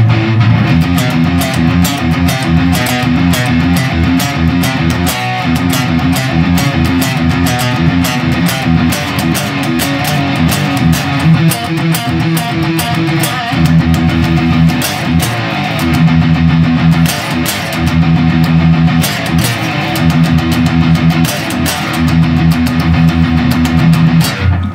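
Electric guitar downpicking riff, with fast, driving palm-muted chugs repeated in tight rhythmic bursts, loud and continuous throughout.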